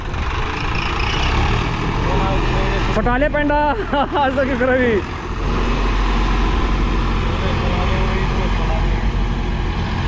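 An Eicher 551 tractor engine that keeps stalling and losing its breath, running as a loud, low continuous rumble throughout while someone talks over it.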